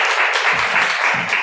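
A live audience at a debate between one conservative and twenty leftists breaks into loud, steady applause, dense and continuous throughout, with faint voices mixed in.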